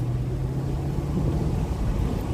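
A BMW E39 540i V8 accelerating in third gear, a steady low engine drone with a firm tone near the bottom, loud and continuous with no talking over it.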